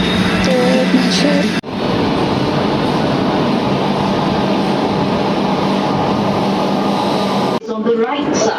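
A Kolkata metro train at a station, a loud steady rumble and hum of the carriages with an abrupt cut at each end, and voices briefly heard around it.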